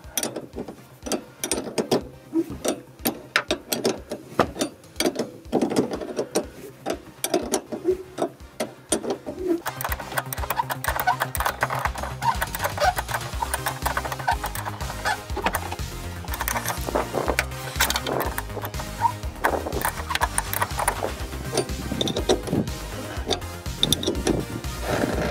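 Ratcheting 14 mm wrench tightening the shock absorber nut on a Mercedes W124, a steady run of quick mechanical clicks close by with no talk.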